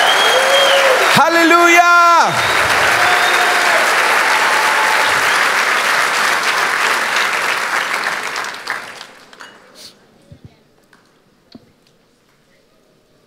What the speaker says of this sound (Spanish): ese aplauso para el Señor, dáselo fuerte